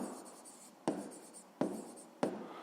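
Pen writing on paper during a fifth-grade maths exercise: faint continuous scratching with three sharper strokes or taps spaced evenly, very quiet and close, with no voices.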